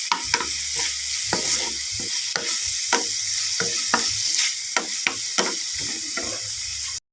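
Chicken and mushrooms stir-fried in a pan with oyster sauce, a steady sizzle under repeated scraping strokes of a spatula, close and continuous with no talking.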